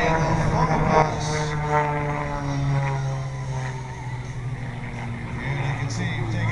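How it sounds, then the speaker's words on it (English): An Extra 300 aerobatic airplane passes in knife-edge flight at an air show, its steady propeller-engine drone holding a constant pitch throughout under continuous commentary. "He's going to roll the extra 300 up on the side in knife edge flight."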